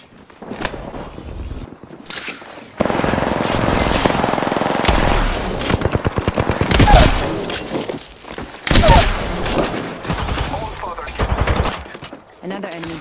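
Loud, sustained automatic gunfire in the Apex Legends shooter game, rapid bursts with brief gaps and a sharp shattering crack, while a voice talks in between.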